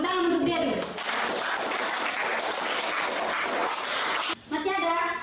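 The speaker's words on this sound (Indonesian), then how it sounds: "Tepuk tangan untuk dia dulu" Classroom applause for a student, steady broadband clapping from a group that fills nearly the whole span, with brief children's voices at the start and end and a short dip near the close.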